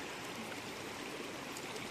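Water rushing down a mountain stream near a waterfall, a dense continuous wash of flowing water, steady and close with no voices.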